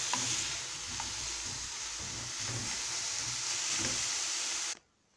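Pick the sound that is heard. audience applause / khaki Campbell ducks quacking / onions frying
onions frying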